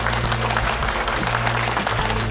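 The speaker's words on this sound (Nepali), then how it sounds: "आजको यो एपिसोडमा यहाँहरू सम्पूर्णलाई फेरि जोरदार तालीका साथ स्वागत गर्दछु।" Audience applause welcomes contestants on a televised dance competition stage show, a steady, dense clapping wash that continues throughout over a low, sustained musical drone.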